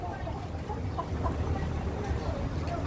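Australorp roosters in a coop during intense summer heat give off soft, low clucks over a steady rumbling background, with murmured voices in the mix.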